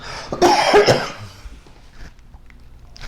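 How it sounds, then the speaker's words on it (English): A couple of sharp, close coughs in quick succession, followed by quiet breathing and faint background noise. "I've been coughing for 3 weeks."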